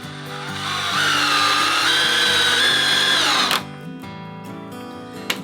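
A power drill drives screws into a model railroad layout, a loud steady whine lasting about three and a half seconds, then stopping abruptly, followed by a quieter mechanical hum.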